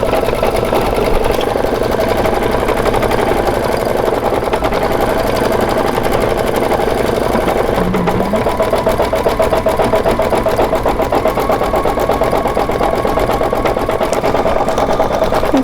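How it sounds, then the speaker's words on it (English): An embroidery machine works a satin stitch around a lemon slice design, a loud, steady, rapid mechanical chatter that carries on without a break, close and alone. "the lemon slice actually does a satin stitch around the lemon slice."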